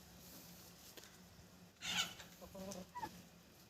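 Australorp chickens and roosters on a farm give a short burst of clucking and squawks partway through, faint in the background at first, then louder for a moment, with no talking.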